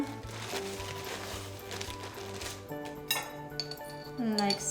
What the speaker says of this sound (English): we're going to just take some ginger snaps and spoon them